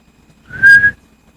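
A single clear, steady whistled note from a person in a studio, held for about half a second, close and loud, with no talking.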